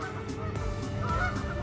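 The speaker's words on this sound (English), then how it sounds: "Yeah, there's a lot of geese." Geese honk repeatedly on a morning nature walk, several nasal calls overlapping at moderate distance over a soft outdoor background.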